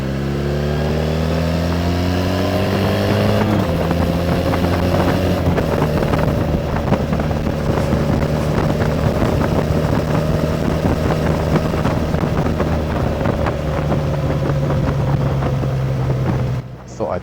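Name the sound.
Triumph Bonneville T214 motorcycle revving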